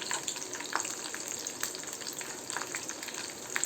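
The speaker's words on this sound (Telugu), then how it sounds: "4 వెల్లుల్లి రెబ్బలు చితక్కొట్టి వేసుకోవాలి." Four crushed garlic cloves hit a hot pan and fry with a steady, even hiss, joined by a few soft stirring clicks near and fairly quiet throughout.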